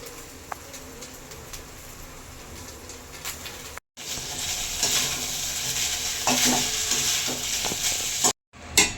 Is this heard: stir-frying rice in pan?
yes